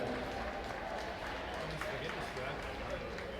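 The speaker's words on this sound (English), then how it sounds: "Let's have a nice round of applause for these young men" Applause and crowd noise fill an ice hockey rink at a women's college game, a steady dense wash of clapping and murmur that runs unbroken throughout.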